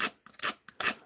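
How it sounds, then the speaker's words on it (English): A crook knife scrapes the inside of a wooden carving in three quick rasping strokes, close and distinct, each a short dry scratch separated by brief pauses. "Now what I'm doing is getting the crook knife. I'm just going to smooth out the inside of this before I sand it"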